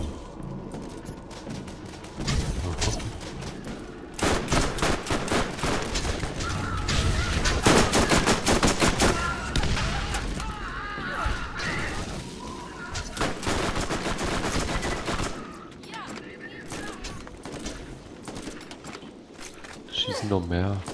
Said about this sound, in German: Schießen noch mehr.